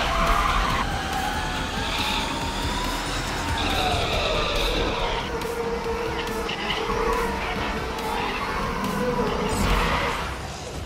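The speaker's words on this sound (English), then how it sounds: "Drive legendary cars to their limits and feel the rush of incredible speed." Racing cars skid through a driving video game, with continuous tire squeal and engine roar sweeping up and down over about eleven seconds, loud and steady, layered with game music and effects.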